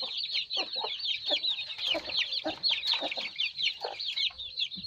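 Chickens cluck steadily and densely at close range during their evening feeding and watering, a busy flock chattering with no talk over them.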